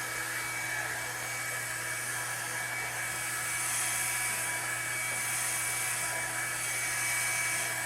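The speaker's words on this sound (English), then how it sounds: "Usually if your blow dryer is super duper hot," A very hot blow dryer drying hair gives a steady, loud, close whine and airy roar throughout, with no talk over it.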